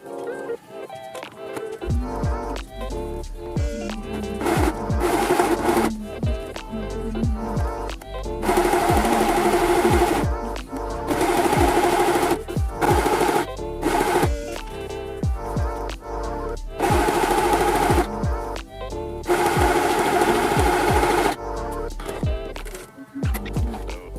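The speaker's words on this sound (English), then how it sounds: "you're going to use a straight stitch for all of this." Sewing machine straight-stitching leather trousers, running in repeated loud bursts of rapid mechanical clatter separated by short pauses, close to the listener.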